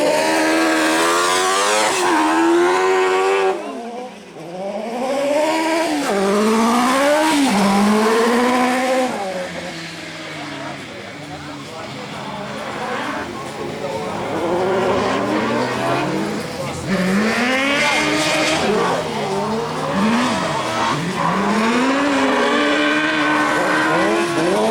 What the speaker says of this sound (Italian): Bertoldo, che sta guidando con molta cautela questo fondo un po' viscido